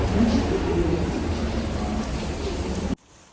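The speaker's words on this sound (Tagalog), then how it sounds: "Og sa dihang kusog kayo ang ulan." Heavy rain pours steadily in New York, a dense, loud wash that continues without a break and then cuts off abruptly.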